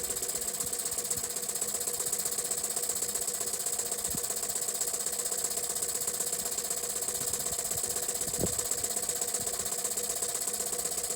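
A 1953 Jensen 50 steam engine with a riveted boiler runs outdoors in cold air, giving a steady mechanical hum and fine regular ticking, with a couple of faint knocks.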